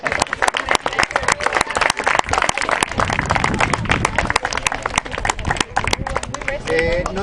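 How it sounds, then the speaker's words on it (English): An audience at an English debate team event applauds, a dense sustained burst of many hands clapping filling the room, close and steady throughout. "Can we clap?"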